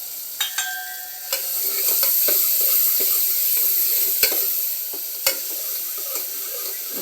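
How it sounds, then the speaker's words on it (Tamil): Sliced onions fry with salt in a pan, giving a continuous loud sizzling hiss, punctuated by a few sharp clicks and scrapes of stirring. "வெங்காயம் வணங்கிறதுக்கு உப்பு போட்டால் சீக்கிரம் வணங்கும் வெங்காயம்."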